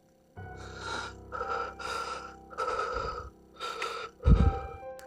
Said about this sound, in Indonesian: tiba-tiba Wahyu Subuh kembali dikagetkan oleh suara nafas yang begitu berat